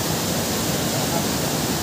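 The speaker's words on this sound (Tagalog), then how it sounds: "Delikado na kasi sobrang lakas at lagasa ng tubig." Strong, fast-flowing river water rushes in a continuous loud broadband roar, with no breaks or other sounds.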